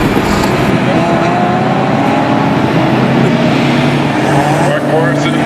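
Closed-wheel race cars roar together at the start of a race at Mission Raceway, a loud, sustained engine drone with shifting revs, overlaid by a commentator talking throughout.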